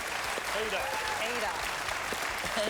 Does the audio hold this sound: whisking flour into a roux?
no